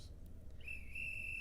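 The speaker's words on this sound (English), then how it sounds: "you can hear the police whistle still in the background" A police whistle sound effect starts partway through and holds as one steady, shrill, unbroken tone, faint and distant over a low background rumble.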